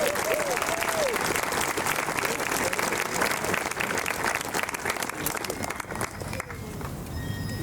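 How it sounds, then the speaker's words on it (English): An audience applauds studio dance performers at a band concert. The crowd claps loudly and densely throughout, tapering slightly near the end, with voices mixed into the noise. "Let's give a big round of applause for all of the studio performers tonight."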